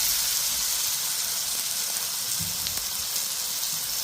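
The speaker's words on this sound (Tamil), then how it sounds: "இதையும் இதோடு சேர்த்து நல்லா வதக்கணும்" About 300 grams of tomatoes sizzling in a hot pan while being sautéed for butter chicken, a steady dense hiss throughout with a few soft clinks and stirring knocks.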